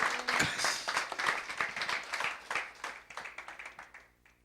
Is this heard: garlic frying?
no